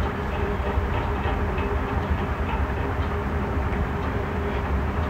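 A short train of two coaches led by an engine rumbles steadily at a railway station under expansion, a continuous dense low roar with faint rhythmic clatter and no voices.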